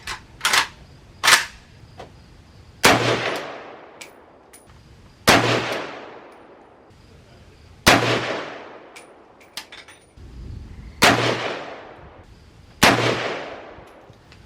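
Gunshots from an AK-47 rifle ring out at an outdoor range, two lighter pops followed by five loud, sharp cracks at uneven intervals of about two seconds, each trailing off in a long echo.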